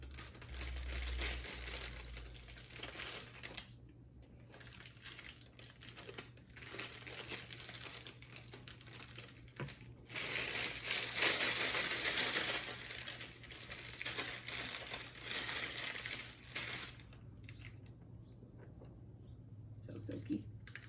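Meringue for mini pavlovas is spooned into a plastic piping bag, giving soft crinkling and squishing bursts of plastic close by, with quiet stretches in between.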